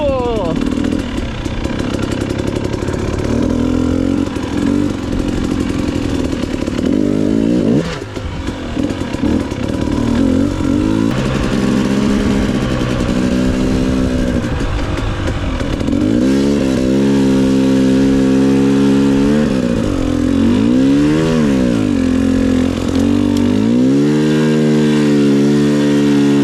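A dirt bike engine ridden through wooded trails, revving and shifting steadily up and down as the bike climbs over rocks and ruts, loud and close throughout, with a rider speaking briefly over it.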